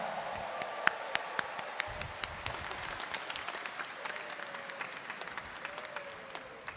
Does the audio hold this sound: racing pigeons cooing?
no